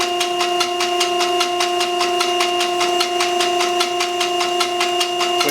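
A John Deere 455E track loader diesel engine cranks loudly and steadily close by, giving a fast, even rhythmic chug with no voices.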